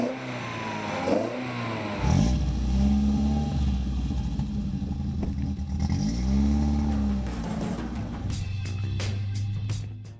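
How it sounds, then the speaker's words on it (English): A Toyota Corolla's 1.6-liter twin-cam four-cylinder, with a Yamaha-developed cylinder head, revs hard in repeated rising and falling bursts, loud and close with a throaty growl and no talk over it. "The growl lets everyone know the Corolla isn't just cute."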